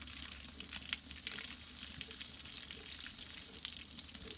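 Water running from a hose over a dog's coat and muzzle, a steady soft hiss and patter with faint splashes, close and continuous without talking.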